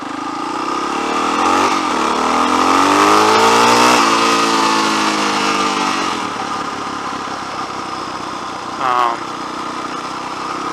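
A street-legal race bike engine revs close by with a rising and falling whine and strong harmonics, then settles to a steady idle. A short engine blip comes near the end.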